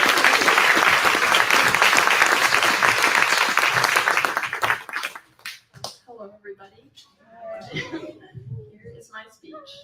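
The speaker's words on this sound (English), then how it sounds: "One more applause." An audience at a Dr. Martin Luther King Jr. celebration breaks into dense, loud applause for several seconds before it fades out and a speaker begins talking.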